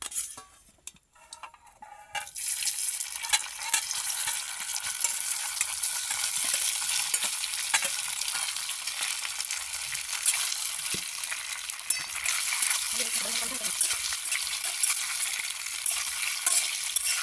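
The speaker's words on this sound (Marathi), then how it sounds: "आणि आता मुटके टाकून घेऊ" Coriander dumplings (mutkule) sizzle steadily in hot oil in a kadhai, a dense continuous frying hiss that begins after a brief clatter and persists loud and alone, with occasional faint utensil clinks.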